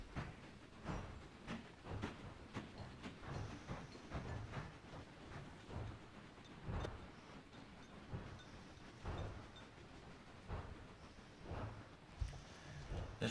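A train backing up in the railway game Mashinky: faint steady rumbling with soft rhythmic clacks and brief hisses, continuous and low in level throughout, with no talking.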